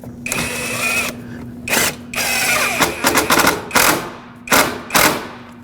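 A power drill drives screws through a shield into the headlight mounting point of a 2013-2019 Ford Escape: several short whirring bursts with brief pauses, close and fairly loud, over a steady low hum.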